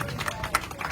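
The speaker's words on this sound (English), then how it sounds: "Let's give a big clap offering to our sister." A short patter of audience clapping honours a speaker at a secondary school prize giving and speech day, with uneven claps and a few sharper hits.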